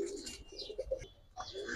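Giribaz and coloring pigeons coo softly in short throaty bursts, a few quiet calls close by with faint background noise.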